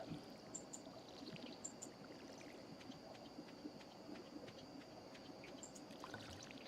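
Watering crops in the Stardew Valley farming video game: a steady trickling, pouring water sound runs continuously throughout, with faint small chimes and clicks scattered on top, no talk.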